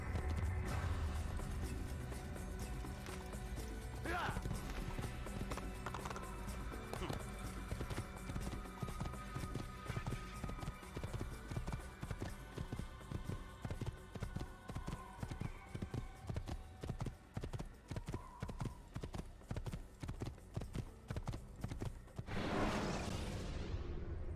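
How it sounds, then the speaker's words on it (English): Steady clip-clopping of horse hooves at a trot in the Assassin's Creed video game, a continuous rhythmic run of close hoofbeats lasting throughout, with a whoosh near the end. "Cavalo treinado, hein?"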